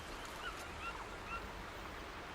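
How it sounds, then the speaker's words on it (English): A faint, steady wash of flowing water fills a forest ambience heard through a Sony Pulse 3D PS5 wireless headset, with a few soft bird calls over the constant hiss. "I can hear the water over to my right"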